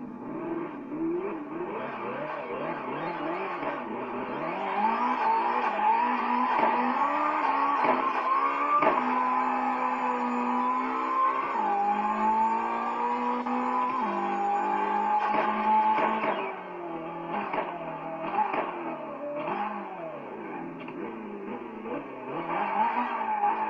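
Racing car engines in the CarX Drift Racing video game roar through a steady quarter-mile launch, pitch climbing and dropping with gear changes, with tire squeals and skids throughout, loud and continuous.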